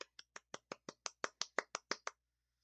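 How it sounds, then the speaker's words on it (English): Thirteen soft hand claps in a quick, even run lasting about two seconds, close and gentle, followed by silence. "Soft claps."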